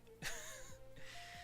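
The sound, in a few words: yawn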